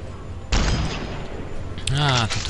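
Gunfire in the video game Fallout 3 erupts as a loud burst about half a second in and carries on through the clip, with someone talking over the shots.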